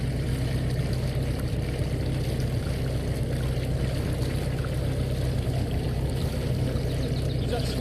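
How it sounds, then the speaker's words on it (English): Water from a bucket is emptied into a garden pond, making a steady continuous splashing rush that stays even throughout at moderate loudness. "here's the bucket putting the rest out into the pond"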